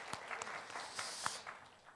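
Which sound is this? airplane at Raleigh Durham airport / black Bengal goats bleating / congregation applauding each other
congregation applauding each other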